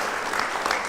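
An audience claps together in dense, steady applause at a formal gathering, a sustained wash of hand claps with no pauses across the short stretch.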